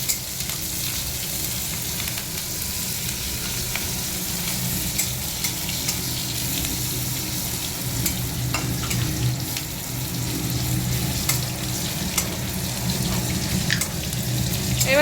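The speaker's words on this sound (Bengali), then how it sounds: "রসুন আর এই যে কাঁচা লঙ্কাটা ইয়ে করে রেখেছি, এটা এখন কড়াইতে দিয়ে দেবো" Garlic and green chili hit hot oil in a wok already seasoned with nigella seeds and dried red chili, giving a steady, close sizzle with faint stirring scrapes throughout.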